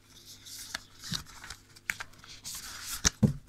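Tarot cards being shuffled by hand, a loose run of soft papery flicks, riffles and slaps at close range, irregular and fairly quiet with no voice.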